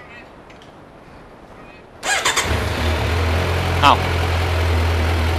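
After quiet background, a Speed Rider motorcycle engine with a carbon exhaust cranks and catches, then settles into a steady, throaty idle close by; a brief exclamation is heard.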